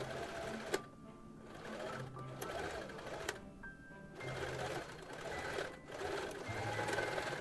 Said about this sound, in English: First, we're gonna do some back and forth stitch over the holes.